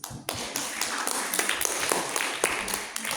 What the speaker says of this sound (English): Please give applause.